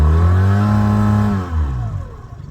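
A Mercury 9.9 outboard motor with a stripped rubber bushing and spun propeller revs hard, a loud, close harmonic engine whine that holds and then drops away as the throttle eases off.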